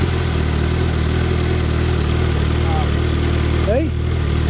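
A 2022 Suzuki Hayabusa motorcycle engine idles with a steady, even low hum, loud and close, broken near the end by a brief high chirp.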